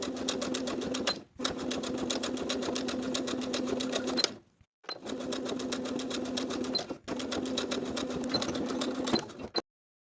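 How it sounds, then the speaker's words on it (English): Bias tape is stitched around a dress armhole on a sewing machine, running in long steady bursts of fast stitching with a couple of short pauses, close and loud, then stopping. "I'm going to be sewing with about a 3/8 inch seam allowance, all the way around to finish the armhole"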